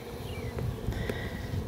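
Honeybees buzzing close by at an opened hive during a spring hive check, a steady low insect drone with no talk.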